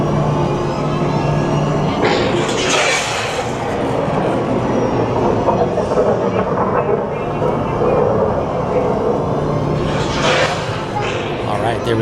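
A Disneyland railroad train rolls away from Toontown Depot, giving a steady, loud rumble of wheels and cars with a few louder surges, with people talking over the ride.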